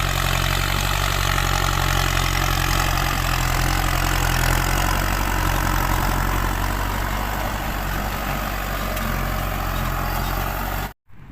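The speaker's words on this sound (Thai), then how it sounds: "เป็นเครื่องปลูก นะครับปลูกมันสำปะหลังนะครับ" A cassava stem-cutting planting machine's engine runs steadily in a field, a loud, even mechanical drone with a rough knocking undertone that cuts off abruptly at the end.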